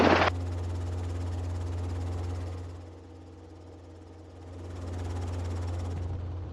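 A Robinson R-22 helicopter in flight drones heard from inside the cockpit: a loud, constant low rotor and engine hum with a brief sharp burst at the start and a slight dip in level midway.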